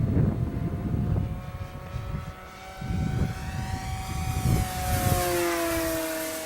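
Durafly Cessna 182 RC model plane flying, a steady propeller drone with a rising and falling engine tone as it passes overhead and banks through a roll, fairly distant, with wind noise and no talk.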